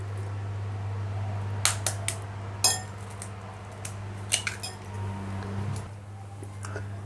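Utensils clink against a bowl in a few scattered taps while tomato and coriander are mixed and eggs go in, faint and close over a steady low hum.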